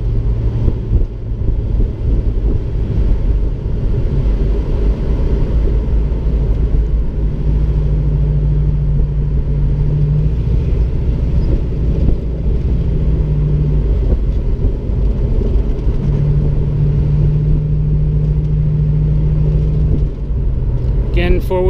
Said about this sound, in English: The spare parts rumbling around in the trunk there, but otherwise accelerates really well.